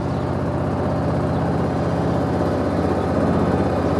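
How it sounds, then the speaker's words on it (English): A vehicle engine runs steadily nearby, giving a constant low rumbling drone that keeps an even level from start to finish, with no voices over it. "Sorry for the engine noise"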